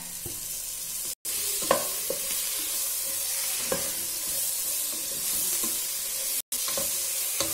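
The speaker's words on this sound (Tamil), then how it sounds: "இப்போ கட் பண்ணி வச்சிருக்க தக்காளி ஆட் பண்றேன்" Chopped tomatoes hitting hot oil already cooked with chilli powder for prawn biryani, a bright steady sizzle with periodic scrapes of a spoon stirring the pan, two brief cuts to silence.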